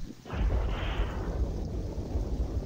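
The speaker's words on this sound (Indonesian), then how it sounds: "Hujan masih sangat deras. Sementara petir menggelegar tidak kalah dahsyat." Heavy thunder rumbles in a deep, sustained roll after a short onset, loud and continuous beneath a wash of heavy rain.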